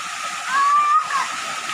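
A waterfall pours into a cave-like river pool at Atimonan, Quezon, a steady broad rushing hiss heard close by, with a brief whistle-like tone passing over it midway.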